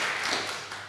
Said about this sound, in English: Good clap, yeah.